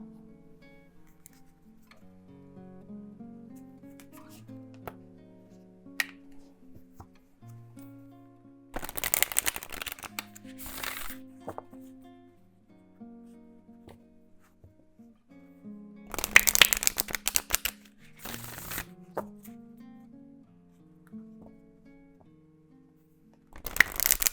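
Tarot cards shuffled in several bursts of crisp riffling and flapping, with quieter handling ticks between them and soft background music underneath.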